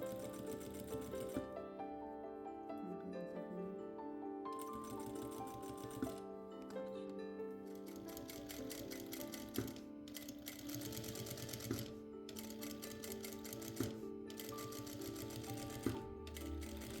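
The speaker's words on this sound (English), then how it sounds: "Sew all the boning carefully." Sewing machine stitching boning channels on a bustier corset, running in steady bursts of rapid rhythmic stitching with short pauses between runs, close and clear with no talk.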